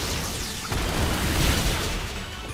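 A heavy Superpower attack lands in the Pokemon Shield video game, a loud sustained booming impact with crackling burst texture that rolls on for a couple of seconds with no speech over it.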